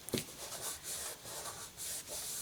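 Dried glue is rubbed off a handmade card by hand, a close, soft papery scrubbing in short repeated strokes after a brief tap, with no talk.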